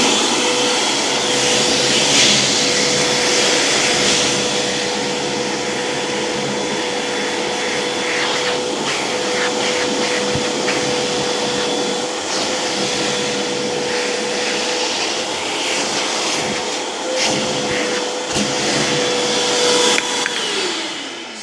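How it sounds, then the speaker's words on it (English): A vacuum cleaner runs continuously with a loud, steady whooshing roar and high whine, its tone shifting slightly as it moves over a pickup truck headliner. "I'll give it a quick vacuum here."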